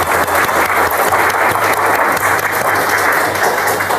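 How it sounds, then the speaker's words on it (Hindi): A crowd at a DXN Achievers Day celebration claps loudly and steadily to welcome a guest on stage, a dense, continuous roar of applause from a large audience with no talking over it. "एक जोरदार ताली"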